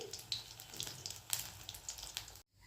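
Eggplant fritters (beguni) frying in oil, a soft crackling sizzle with scattered bursts of spattering, fairly quiet and steady, then cutting off abruptly near the end.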